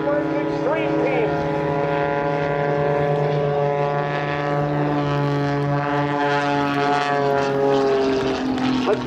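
Propeller-driven aerobatic planes of the Firebirds Xtreme team drone loudly and steadily overhead at the Battle Creek Field of Flight air show, their engine pitch sliding slightly as they pass.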